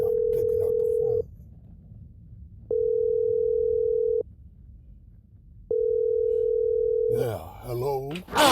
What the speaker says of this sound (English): Call him like 4 times and he's not picking up the phone.